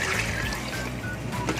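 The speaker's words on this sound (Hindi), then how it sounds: "अब इसमें पानी डालेंगे।" Water pours steadily into a cooking pot for chicken pulao, a continuous close trickling splash that stays even throughout.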